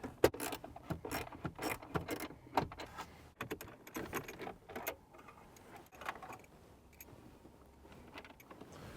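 A hand ratchet works loose 10mm bolts during an amplifier install in a GR Corolla, giving quick bursts of close metallic clicking separated by short pauses, fading to quieter handling noises.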